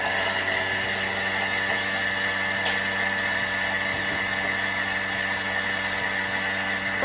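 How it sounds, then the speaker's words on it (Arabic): Thermomix food processor grinding ingredients at high speed, a steady loud mechanical whir with a constant motor whine and faint rattling, continuous and close with no talk. "الترموميكس اللي تطحن مزيان"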